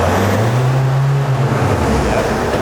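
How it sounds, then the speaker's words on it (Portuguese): A hybrid car's conventional combustion engine starts up nearby and settles into a steady low idle drone throughout, with a faint background hum. "E agora a gente pode acionar o motor convencional."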